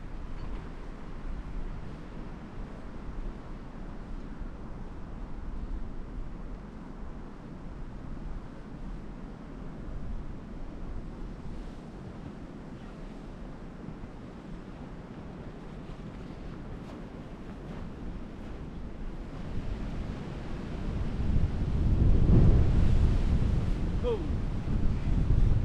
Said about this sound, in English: Alright, these gusts keep messing me up.